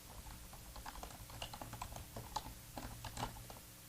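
Close, quiet typing on a computer keyboard as code is entered, with uneven bursts of light key clicks and short pauses.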